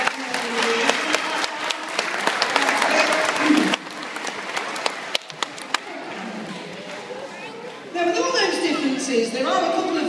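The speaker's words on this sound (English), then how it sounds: "give them a big round of applause for the seal" An audience at a sea lion show applauds the performing seal in a dense, steady round of clapping, with an announcer's voice carrying over it through the second half.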